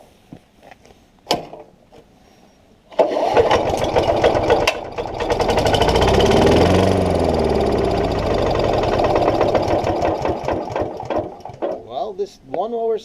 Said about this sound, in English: This lawnmower is capable of running,